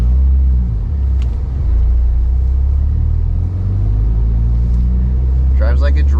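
A Mitsubishi Evo X drives slowly out of a snowy driveway in snow mode, its steady low engine rumble and road drone continuous throughout, close and fairly loud, with a brief mechanical whine near the end.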